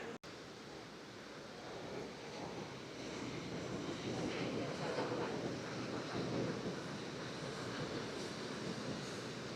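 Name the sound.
ocean waves at Bondi Beach, Sydney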